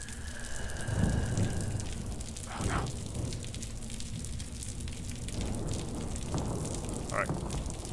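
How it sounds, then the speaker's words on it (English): Steady rain in the horror video game Wick, a continuous hiss of falling drops with a few louder gusts, heard behind a person's voice. "That's the rain, right?"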